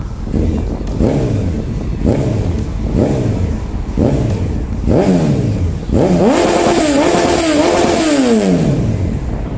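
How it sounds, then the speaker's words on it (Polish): A Honda Hornet 900 motorcycle revs up loudly and close by, repeatedly blipping the throttle in rising and falling sweeps, then holding a longer high rev, with a deep bass exhaust note from its twin pipes. "Dzięki mocy generowanej przez silnik duży Hornet nie tylko chłosta 600, ale przy okazji może ich wygrzmocić pięknym basowym brzmieniem z dwóch rur."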